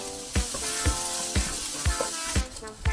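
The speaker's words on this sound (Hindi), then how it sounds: "ये एक मीडियम साइज का प्याज है, ये डाल लिया है। इसको भी उसी तरह से मैं हल्का हल्का सौते करूंगी" A medium-sized onion sautéing in a pan gives a steady close sizzle and crackle, broken by regular soft scraping knocks from stirring roughly every half second, with no talking.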